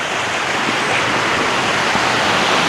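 Water rushes steadily nearby, a constant broadband hiss of a flowing stream on the Kungsleden trail in Sarek, Sweden, with no voices.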